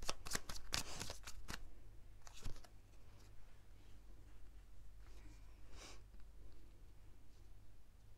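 Playing cards being shuffled nearby, a quick run of crisp riffling snaps at the start and a few more flicks later, then fading into a soft hiss and low hum.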